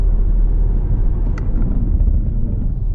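A Mahindra Thar driving at night on a road in Goa, a loud, steady low engine and road rumble heard from inside the cabin, with no talk.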